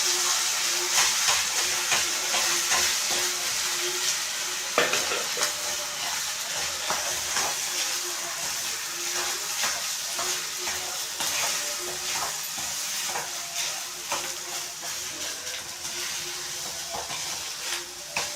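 Freshly drained hot rice with mint chutney and torn dried red chilies is stirred in a pan, giving a soft continuous hiss and steamy sizzle with scattered scraping strokes, faint and close.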